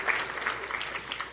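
Audience applause at a Calgary business community address by Premier Smith, a brief burst of dense clapping from a room full of people with no speech over it.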